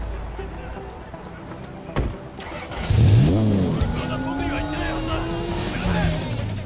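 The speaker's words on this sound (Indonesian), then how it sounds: "Ketika dia melaju dengan kencang, Kate kehilangan kesadarannya sehingga mobil yang dia kendarai mengalami kecelakaan." A car in an action film accelerates hard, its engine rising into a rising whine, over a low rumble and film soundtrack, with a voice speaking over it.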